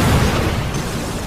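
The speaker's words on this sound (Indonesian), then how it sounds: "Tamiya akhirnya melemparkan sebuah molotov dan membuat ruangan itu meledak." A dense, loud low rumble of an explosion fills the space, a heavy boom that stays broad and sustained before slowly easing.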